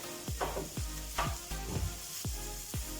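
Onions frying to golden brown in a pan for a mixed vegetable curry, with coriander added, crackling and sizzling close up, with repeated dull stirring scrapes at a steady rhythm, no talk.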